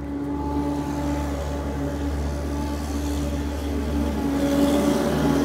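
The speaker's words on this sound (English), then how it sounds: "Yeah, we get it. You're driving a truck." A truck rumbles along a street in Morningside Heights, New York, its low steady engine drone close and loud, swelling slightly as it passes.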